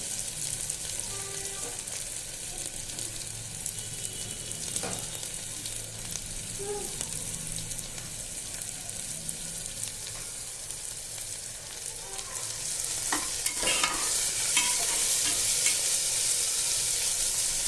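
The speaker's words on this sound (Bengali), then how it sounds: "পেঁয়াজটা একটু ভাজা ভাজা হয়ে এসছে" Steady frying sizzle of onions and chopped carrots in a pan, broad hissing throughout with occasional scraping clinks from stirring, growing slightly louder near the end.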